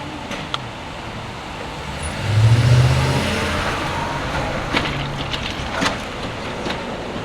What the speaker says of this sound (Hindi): इस ट्रक को भी अभी रुकना था